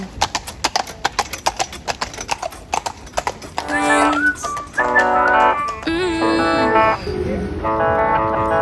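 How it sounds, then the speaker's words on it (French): Carriage horses clip-clop along a city street in London, with sharp, evenly spaced hoof strikes close by, and then several people talk over the continuing street noise. "Mais pourquoi il utilise encore des chevaux?"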